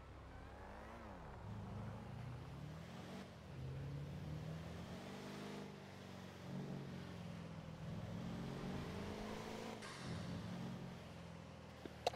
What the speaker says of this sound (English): I love these engine sounds.